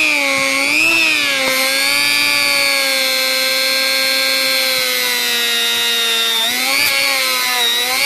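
A rotary tool spinning an abrasive polishing buff against wood gives a loud, steady high-pitched whine that runs without a break, its pitch dipping and rising slightly as pressure on the workpiece changes.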